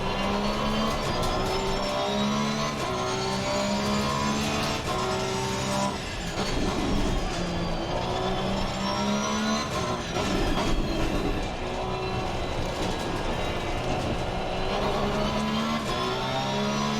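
A Porsche 911 GT3 race car in Assetto Corsa Competizione drives continuously at high revs, its engine note climbing and dropping through gear changes, loud and close with steady road rumble and no talking.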